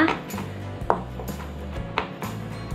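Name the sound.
chopping garlic with a knife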